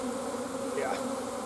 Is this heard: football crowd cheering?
no